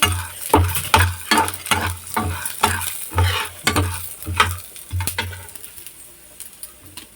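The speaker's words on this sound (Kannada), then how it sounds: "ಇದೇ ಬಾಣಲಿಗೆ ಇವಾಗ ಕಡಲೆಬೇಳೆ ಹಾಕ್ತಾಯಿದ್ದೀನಿ. ಒಂದು 5 ಸೆಕೆಂಡು ಈ ಥರ ಒಂದು ಸ್ವಲ್ಪ ಇದು ಹುರ್ಕೊಂಡ್ರೆ ಸಾಕು." Chana dal dry-roasting in a pan, stirred with a utensil in a steady rhythm of about one scrape per half second, rattling lentils under each stroke, fading out toward the end.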